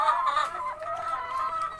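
Laying hens clucking inside a low, hot, stuffy coop, a steady close chorus of overlapping clucks and squawks with no talking.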